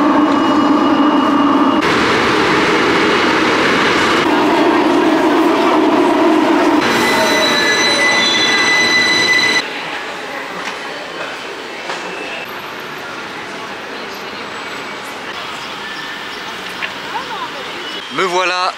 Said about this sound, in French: je vais tout de suite prendre le métro pour rejoindre Alger centre